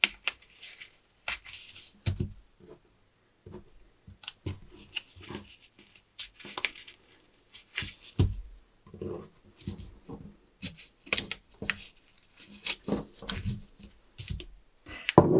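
Scissors snip through fabric that has a paper pattern pinned to it, in short close cuts and rustles with brief pauses, quiet and without talk.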